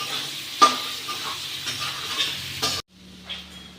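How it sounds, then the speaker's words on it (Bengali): Cubes of paneer frying in a pan Bengali style until browned: close, bright sizzling with scraping stir strokes and light utensil clatter, which cuts off abruptly to a quiet low hum near the end. "এখন আমার পনিরটা পুরো লাল লাল করে ভাজি হয়ে গেছে"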